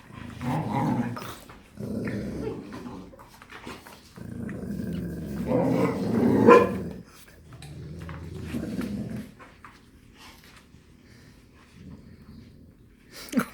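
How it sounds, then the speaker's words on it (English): Close Cane Corso dogs growl and snarl in repeated bursts, rising to a sharp scuffle in the middle before quieting. "Oh, Cashmere's getting mad."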